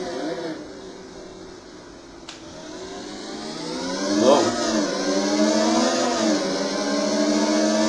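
Motorcycle engine in the racing game Riding Spirits 2, a steady whining drone that rises and dips in pitch with throttle and gear changes, fairly loud and continuous with no talk.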